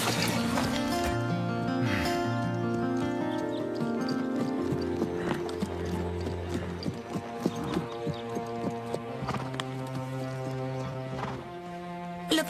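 Horse hooves clip-clop steadily during a show-jumping riding lesson in an animated series, a rhythmic trot underneath loud orchestral music, with sharper hoof strikes toward the end.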